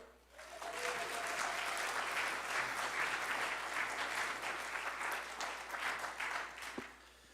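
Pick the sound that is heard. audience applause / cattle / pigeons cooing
audience applause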